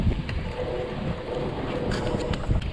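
Strong wind gusting around 20 on a lake during a fall bass-fishing day blows across the microphone in a continuous loud rumble with rough buffeting, no talk.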